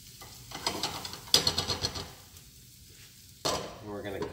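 Shrimp tossed in hot oil in a pan, giving a steady close sizzle with rattling scrapes and clanks of the pan being shaken in bursts, then a louder burst of frying near the end.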